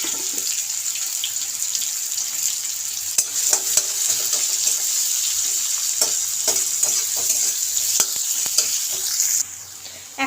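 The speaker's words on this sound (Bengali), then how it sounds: "পেঁয়াজটাকে ভেজে নেবো একটু" Chopped onion and garlic frying in a pan, a loud, constant hissing sizzle broken by repeated stirring scrapes, close up and alone, dropping off sharply near the end.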